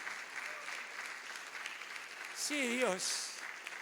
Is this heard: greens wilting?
no